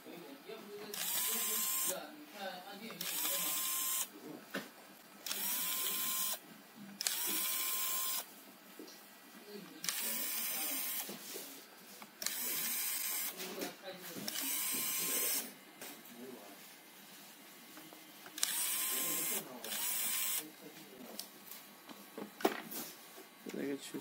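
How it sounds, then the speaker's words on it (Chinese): Tiny screws come out of a GPD WIN 2 handheld under a small electric screwdriver, repeated short bursts of high-pitched whirring with pauses between them, while a person talks quietly. "一个把螺丝全部拆掉。"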